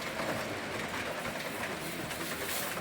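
Bluetooth model train running on a layout track in a hobby store, giving a steady close rumble with faint rhythmic wheel clatter and no talk.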